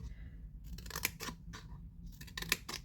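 Scissors snipping through scored paper in short crisp cuts, a few quick closes at close range, quiet overall with brief trims between.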